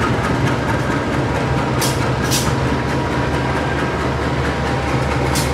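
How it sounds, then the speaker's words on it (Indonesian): Pasundan train carriages being pushed west along the track, a loud steady low rumble and drone of heavy rolling stock with faint hissing bursts partway through, no voices. "kereta Pasundan rangkaiannya didorong ke barat"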